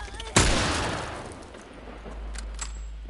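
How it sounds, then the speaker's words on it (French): A single loud gunshot from The Last of Us video game cracks sharply and rings out into a long decaying tail, followed by faint softer clicks and distant reports. "Il me démonte les oreilles, le bruit des balles"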